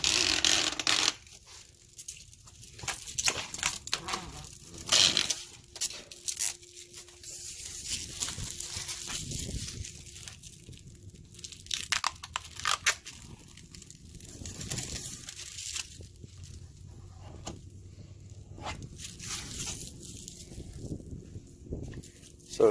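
Clear protective backing is peeled off glossy vinyl wrap on a 2014-2018 Chevy Silverado bumper, giving quiet, intermittent crinkling and tearing rustles close by, with no talking.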